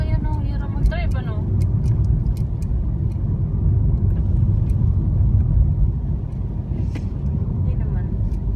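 Inside a car on a foggy road in Tagaytay, a steady loud engine and road rumble drones throughout while people talk over it.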